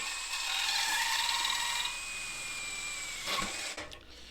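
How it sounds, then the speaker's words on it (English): A hole saw cutting through a plate gives a steady whining drone for about two seconds, then tails off quieter with a brief rougher burst near the end, heard alone without talk. "Now for cutting holes, hole saw is good. Always go slow"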